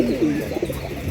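A racing pigeon arriving at its loft gives a short, close, low cooing call.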